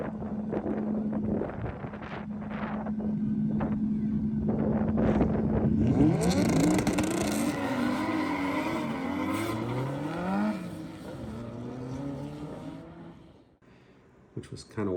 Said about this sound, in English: there were these guys doing drift racing around a track